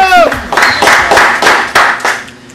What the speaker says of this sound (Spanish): El aplauso y la bulla.